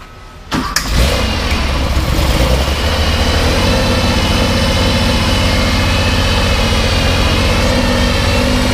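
A car engine cranks and catches, then runs loud and close for several seconds with the throttle held up, giving a steady, rough roar. Nobody speaks over it.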